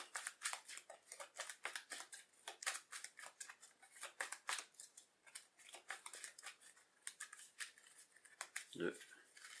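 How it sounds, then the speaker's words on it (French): Playing cards for the Marvel Champions card game being shuffled into an encounter deck, a fast run of crisp riffling flicks and slaps close by, with a soft thump near the end and no speech. "Et maintenant il est temps de mélanger l'obligation dans le deck de rencontre."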